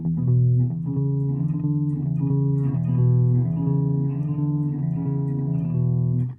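A Godin guitar plays a 12 bar blues riff, repeated low notes moving up through a steady rhythmic pattern, clear and close with no talking.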